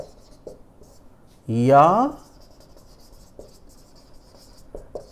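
Writing on a board during a Hindi-language geography lesson on continental drift: faint scratchy strokes and light taps, with a teacher's brief spoken word partway through.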